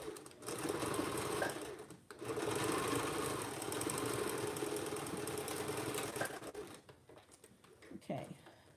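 A sewing machine runs a zigzag stitch around a glove, joining the palm top to the palm bottom. It is a steady, close mechanical whir that breaks briefly once, runs on for several seconds, then trails off into softer handling sounds.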